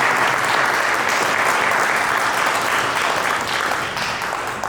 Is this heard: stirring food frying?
no